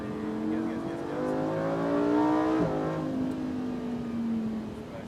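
Lamborghini Huracan Performante, 640 hp, accelerating on a race circuit, a loud engine note climbing through the gears from inside the car, with a quick shift partway and an instructor's voice calling out over it.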